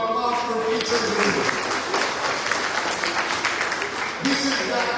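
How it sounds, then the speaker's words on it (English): An audience at a Ramadan gathering breaks into a round of applause, dense clapping sustained over several seconds, with voices talking over it. "can you give me a round of applause for each of you?"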